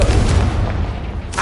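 Confringo explosive spell cast in Hogwarts Legacy, a single loud booming burst with a heavy low rumble that fades over a second and a half, close and alone.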